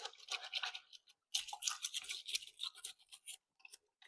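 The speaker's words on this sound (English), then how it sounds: "Now what I like to use is a little wire brush." A small wire brush scrubs a paint sprayer tip clean of water-based paint: quick, bristly rasping strokes in uneven bursts with short pauses, close and fairly quiet.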